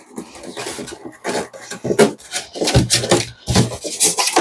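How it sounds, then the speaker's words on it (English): A big screwdriver is forced through a plastic box to make a hole, producing loud scraping, grinding bursts and creaks of strained plastic in uneven pulses, close up. "So here is the specialist tool, nice big screwdriver, poke it through, and that should be big enough for the probe"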